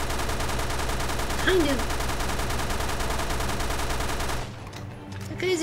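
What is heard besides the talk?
submachine gun firing in video game Resident Evil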